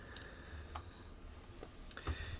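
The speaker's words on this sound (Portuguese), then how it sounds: "Então eu vou dar dois cliques nela." A computer mouse gives a quick pair of faint clicks, with a few other light ticks scattered through a quiet room; no one speaks.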